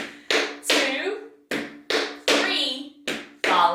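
Tap shoes in a beginner tap lesson doing flaps and heel steps: crisp, close taps in quick pairs and single hits with uneven spacing, loud and bright, with a voice briefly counting.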